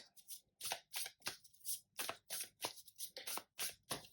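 Tarot cards are shuffled in quick bursts, crisp riffling and slapping strokes repeating in an uneven rhythm, close and clear with short pauses between.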